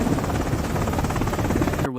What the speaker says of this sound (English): To save his life, Langston rushes to a helicopter